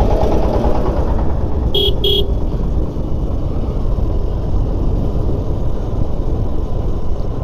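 Busy rural traffic on the Kalapara–Baliatali road in Bangladesh: a continuous loud engine drone from passing vehicles, broken by two short, sharp horn toots in quick succession near the start.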